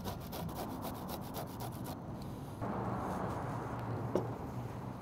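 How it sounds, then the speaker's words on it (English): Garlic rubbed over a fine grater, a steady close scratching rasp that carries on throughout, with a small tap near the end. "Now we're gonna take our garlic and do the same thing, just a finer grate on that."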